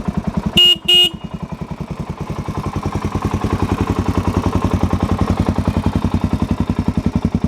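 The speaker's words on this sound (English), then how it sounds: "horn." A 2007 Suzuki DRZ 400S with a full Yoshimura exhaust gives two short, loud horn beeps over its idling engine. The engine then keeps chugging in a steady, even rhythm.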